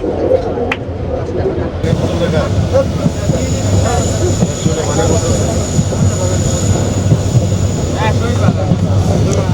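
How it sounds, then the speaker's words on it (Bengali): Chattala Express passenger train running from Chittagong to Dhaka near Akhaura Junction, a steady loud rumble of wheels and carriage noise throughout, with voices talking over it. "আমাদের ট্রেন এখন চলে যাচ্ছে চট্টলা এক্সপ্রেস চট্টগ্রাম থেকে ঢাকার উদ্দেশ্যে"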